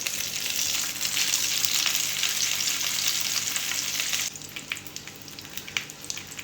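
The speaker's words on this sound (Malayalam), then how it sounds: "ഇതിൻ്റെ കൂടെ തന്നെ നമുക്ക് രണ്ട് സോസേജും കൂടി ഇട്ട് കൊടുക്കാം" Sausages fry in a pan for an English breakfast, giving a loud continuous sizzle that drops partway through to a quieter crackle with scattered pops and no talk.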